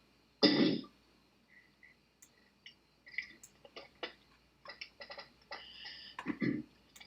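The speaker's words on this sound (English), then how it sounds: "I have to make a little cough here" A single sharp, close cough rings out near the start, followed by quiet, sparse clicks and small rustles in a calm indoor room.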